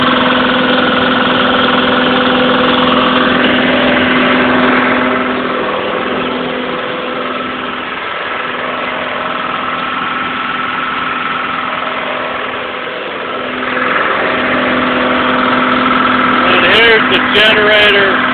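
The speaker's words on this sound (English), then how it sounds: "Generator with the control panel in the enclosure." Two-cylinder Detroit Diesel 2-71 engine running a generator with a control panel in an enclosure on a trailer, a loud steady diesel drone that dips slightly midway, with a brief clatter near the end.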